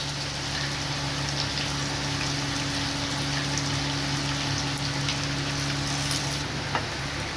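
Sliced onions deep-frying in hot oil for an egg korma, a steady broadband sizzle and bubbling that holds level throughout, close and continuous with no talking.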